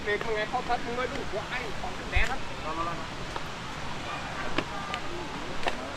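Kuang Si waterfall in Laos gives a steady broadband rush of falling water, moderately loud and continuous, with people talking over it throughout.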